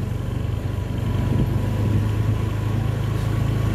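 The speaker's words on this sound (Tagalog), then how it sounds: "Blow by na yung makina po." A large truck engine with blow-by rumbles steadily at close range, a deep, continuous low throb with a rough, chugging texture and no voices.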